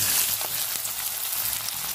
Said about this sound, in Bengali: তেলটা গরম হয়ে গেছে, এর মধ্যে আমি পেঁয়াজ, কাঁচা লঙ্কা আর রসুন কুচিটা দিয়ে দেবো।